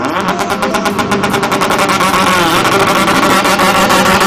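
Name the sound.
cars and motorbikes making display runs at Coventry MotoFest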